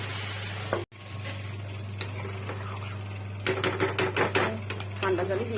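Large potato chunks are stir-fried in a pan, heard as a low steady sizzle under a constant hum, then a run of clicking spatula scrapes and taps near the end, close and fairly quiet.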